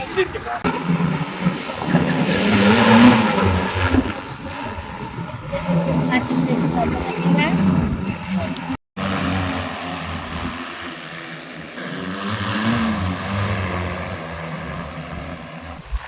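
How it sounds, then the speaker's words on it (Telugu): An agricultural drone spraying weedicide over a farm field hums with a steady propeller drone at mid distance, wind buffeting the microphone and a person talking over it. "మన డ్రోన్ అయితే ఇప్పుడు స్టార్ట్ అయిపోయింది"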